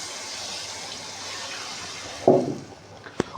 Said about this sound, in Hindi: इसमें मैं 3 पाव ये पानी डाल दूंगा